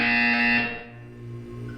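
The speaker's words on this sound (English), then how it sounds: "You will hear a buzzer." A buzzer sounds in the Portal 2 video game: a loud, steady electronic alarm tone holds for about half a second, then drops away into a quieter sustained hum.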